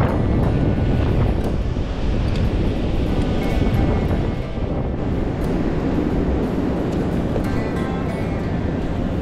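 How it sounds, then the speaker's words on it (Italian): Sea waves roll in at the shore under strong wind, a steady roar of surf with heavy gusts buffeting the microphone throughout. "Ah, il mare è bello"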